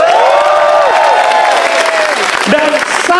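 Loud crowd applause mixed with cheering for Indonesia's SEA Games gold medals, with voices calling out over the dense clapping.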